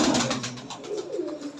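Lotan pigeons, heavy boot and kalmi types with long feathered feet, cooing in a low rolling series close by, with a steady higher background hiss and no talking.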